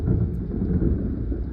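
A thunderstorm with heavy pouring rain, a loud continuous low rumble and dense roar of rainfall filling the whole moment without a break.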